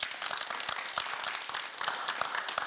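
Applause from an audience at a youth employment event for industrial companies, a dense continuous patter of clapping at moderate loudness across the short stretch.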